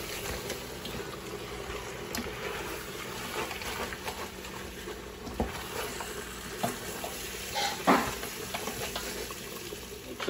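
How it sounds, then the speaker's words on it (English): Beef chunks for a Guyanese curry are stirred through a thick paste in a pot, with soft sizzling and scattered wet scrapes and clinks continuing steadily throughout. "give it a good stir"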